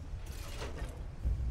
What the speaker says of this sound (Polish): Dźwignia nam zamyka drzwi i otwiera te drzwi.